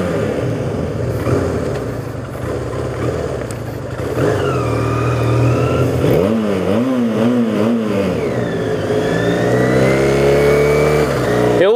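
Honda CBR 450SR motorcycle with a Coyote exhaust revving hard, loud and close, with repeated throttle blips and rising, falling engine pitch over a sporty exhaust rumble.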